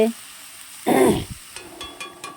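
A spice mixture of onion, ginger and a little chilli hits hot oil in a pan, giving one loud burst of sizzling that fades over a second, followed by faint clinks and quieter crackle.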